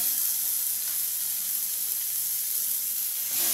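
A mini burger patty fries in a frying pan, giving a loud, even, continuous hiss-like sizzle close up, with no talking over it.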